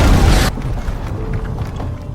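A missile explosion in an action film hits as a loud, close boom that cuts off abruptly, then fades into a low rumbling tail of debris.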